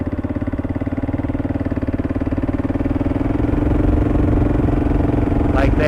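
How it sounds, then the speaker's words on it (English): A motorcycle engine running steadily under load in fifth gear, with a loud, close, even drone whose pitch rises slightly and strengthens as the throttle opens, then ends with a brief rustle. "Like there, nice snappy throttle response in 5th gear"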